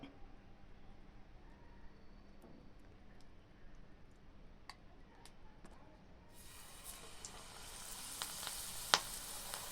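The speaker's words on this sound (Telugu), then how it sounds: "తలిపి పెట్టుకున్న శనగపిండిలో లేత మామిడాకును ఆ విధంగా అద్దె నూనెలో వేసుకోవాలి" Tender mango leaves coated in gram flour batter drop into hot oil as bajji fritters. Quiet at first, then a loud, bright sizzle swells up partway through and keeps crackling to the end, with a single sharp tick.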